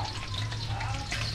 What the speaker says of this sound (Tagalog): Pritong baboy pa lang yan.